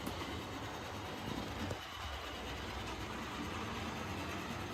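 A small O gauge model train runs steadily along a layout's inner loop with a constant whirring hum, close and even throughout, without voices.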